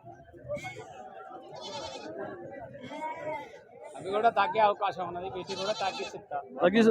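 Young goat kids bleat repeatedly at a busy weekly livestock market in Husnabad, their cries rising over steady crowd chatter and haggling voices nearby.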